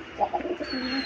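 Pigeons cooing in a goat and pigeon farm loft, soft low coos repeating in short bursts at close range with a faint chirp above.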